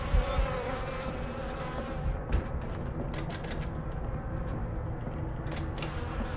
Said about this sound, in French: les mouches me suivent